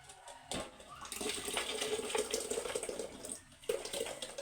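Water splashes and pours from a pitcher in a continuous gurgling stream for a few seconds, with a brief pause and a short restart near the end.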